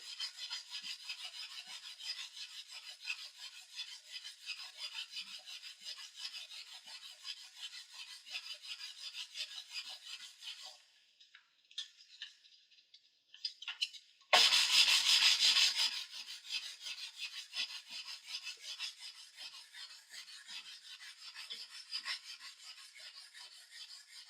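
Steady rasping rub of a block sanding a wooden guitar fingerboard, back-and-forth strokes close up, pausing briefly before a louder burst of scraping resumes.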